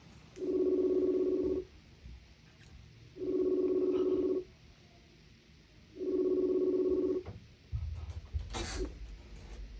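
A telephone ringback tone sounds three times as a phone call is placed, each long steady burst separated by a pause, followed by brief handling noise.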